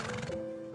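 A brief horse neigh from the Roblox game Blade Ball, a short faint whinny with a quavering pitched tail, alone and quiet.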